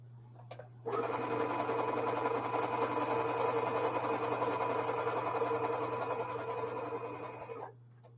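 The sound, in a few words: sewing machine stitching fabric on the diagonal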